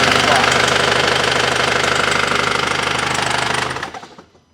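An engine running on a dyno with a suspected crankshaft fault knocks loudly and steadily at a fast, even rhythm for about four seconds, then winds down and fades out.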